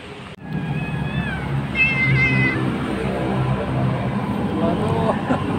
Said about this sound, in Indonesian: Di bawah ini jadi ramai sekarang, banyak sekali kucingnya.